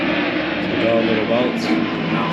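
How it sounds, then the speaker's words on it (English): An airplane drones overhead as a steady, loud roar while someone talks briefly over it. "Sorry about the plane."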